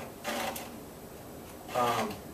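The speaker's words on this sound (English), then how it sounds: "you take the round file and you go right up in these teeth right here, like that, and you push" A round file rasps across chainsaw teeth in two distinct push strokes, each a short gritty scraping burst close by, separated by a quiet pause.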